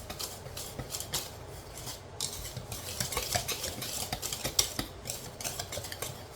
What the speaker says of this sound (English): We're going to go ahead and whisk all this together.